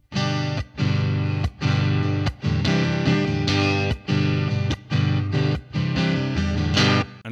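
A distorted electric guitar plays sustained chords in steady strokes with brief gaps, the notes ringing out with a spacious, echoing tail.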